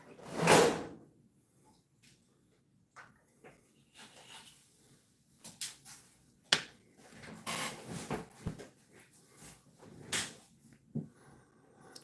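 A drawer is pulled open with a quick sliding scrape, followed by quiet rummaging, small knocks and rustles, and later soft thumps as it is pushed shut, all close and fairly faint.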